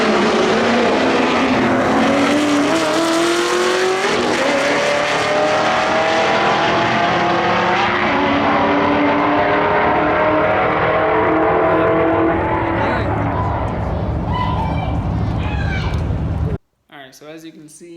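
Street cars at a Dallas street car takeover launch in a drag race semifinal, engines roaring loud and close then fading as they pull away, with speech mixed in, ending in abrupt silence.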